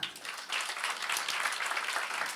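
Applause from a church congregation during an online Sunday service, a steady dense patter of many hands sustained throughout at moderate level, with no speech over it.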